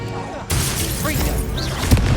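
A Confringo blasting spell goes off in Hogwarts Legacy, a sudden loud broadband burst that cuts in sharply and leaves a dense, crackling wash of game effects behind it.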